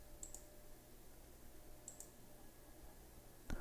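A couple of faint, sharp computer mouse clicks on a quiet desk, spaced apart against low background hum, ending with a slightly louder click.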